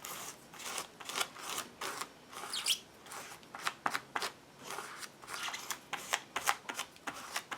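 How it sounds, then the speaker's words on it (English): Gift card scraped across paint-covered foil and tissue paper texture in an altered book, giving quiet, rhythmic crinkly swipes and crackles, close and fairly faint, repeated in short strokes with no talking. "I'm just going to squeegee that paint"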